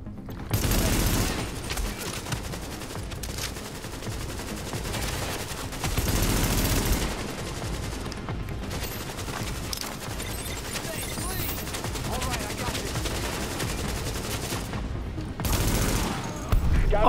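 Rapid gunfire in Tom Clancy's The Division, dense bursts of automatic shots sustained almost throughout, loud and close, with a voice talking at points.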